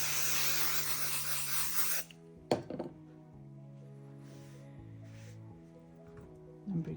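505 temporary adhesive spray hisses onto quilt batting in one steady burst lasting about two seconds, followed by quiet handling noises and soft thumps.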